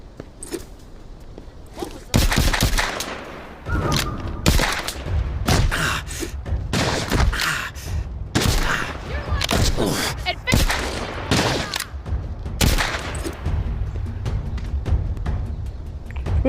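Gunfire from a fast-wearing weapon in The Walking Dead game comes as a burst of loud, irregular shots and thuds that fill most of the stretch, with brief gaps and some talk mixed in.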